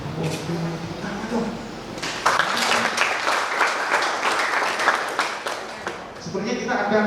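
An audience at a talk-show event gives a speaker a dense, loud round of clapping lasting several seconds, with murmuring voices before it begins and as it fades.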